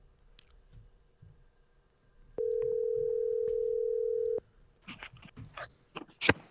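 A phone call rings out as a single steady ringback tone lasting about two seconds, with faint clicks before it and some clattering noise after.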